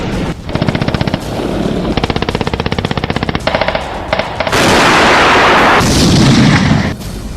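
Combat in Soledar, Ukraine: rapid machine-gun bursts crackle in repeated strings, then give way to heavy booming artillery fire and a sustained roar of explosions, all loud and close.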